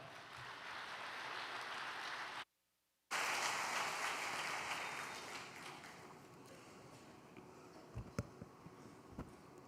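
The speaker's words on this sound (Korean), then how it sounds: "따뜻한 박수로 맞이해 주시기 바랍니다." Audience applause at a church testimony gathering fills the hall as sustained clapping, briefly cut off by a moment of silence, then resuming and gradually thinning out with a few scattered claps.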